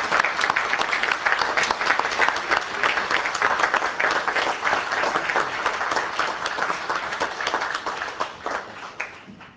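An audience at a meeting claps in a dense, loud burst of applause that holds steady for several seconds, then thins into scattered individual claps as it fades.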